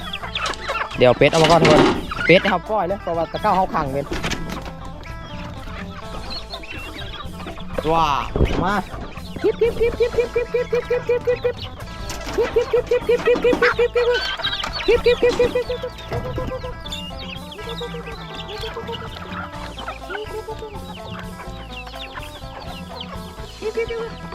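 Chickens and ducks clucking in a Thai or Lao village setting. Loud, close bursts of repeated clucks come in rhythmic runs with squawks between them, continuing for over twenty seconds.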